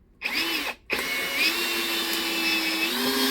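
Einhell TP-CD 18/60 brushless cordless drill driving a long screw: a steady high motor whine that starts, briefly cuts out, then runs on continuously at close range, with no talk.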